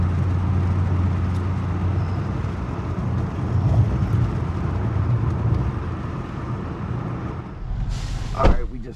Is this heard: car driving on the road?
yes